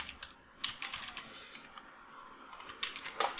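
Quiet typing on a computer keyboard while writing website code, with scattered light key clicks and a few quick flurries, close but faint, without any talking.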